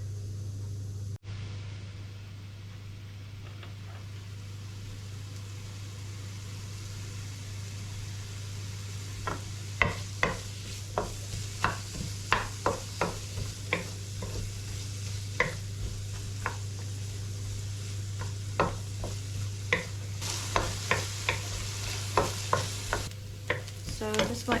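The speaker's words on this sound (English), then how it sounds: "So as my onions are cooked off well, about 10 minutes, they're just starting to go brown" Onions fry in a pan for a fish pie, a steady low sizzle beneath a strong constant hum, with a run of sharp scraping stirs that starts partway in and carries on to the end; no one talks.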